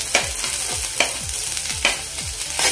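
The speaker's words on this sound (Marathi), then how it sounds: "आता यामध्येच मी आलं आणि लसूण घालते भाजायला" Ginger and garlic fry with onion in a pan for a Khandeshi shev bhaji curry, a steady close sizzle broken by regular scraping stirs about once every second.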